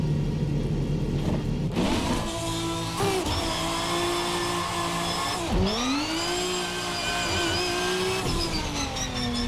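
VRC Beamer V12 prototype race car in a racing video game, its engine note rising loudly then dropping as it upshifts out of first gear, followed by further revving climbs and gear changes, with no talking.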